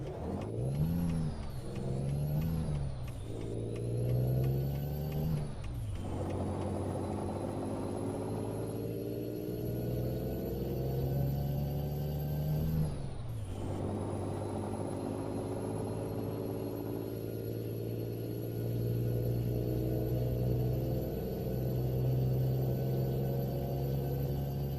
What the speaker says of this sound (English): This truck is kind of loud, is it not?